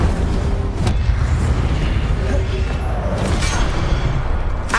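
The Incendio fire spell in the video game Hogwarts Legacy unleashes loud, rumbling booms and crackling blasts that run continuously, with no pauses.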